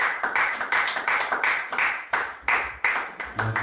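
A church congregation claps to acclaim the Lord: a loud, close burst of rhythmic clapping, roughly a dozen emphatic beats in a steady pulse, with no talking.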